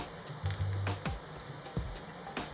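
Dried red chillies dropped into hot oil for lemon pickle, with garlic already frying, give a steady close sizzle with a few sharp crackles and pops.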